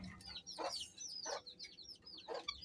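Several backyard chickens cluck and chatter in short bursts at morning feeding, close by, with no talk over the sound.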